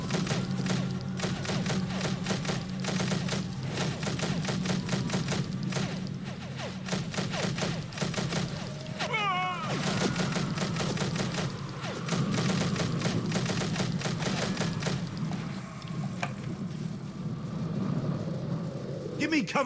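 Dense, continuous automatic gunfire from the video game Breed rattles on for the whole stretch, loud and close, with mechanical noise and voices mixed underneath.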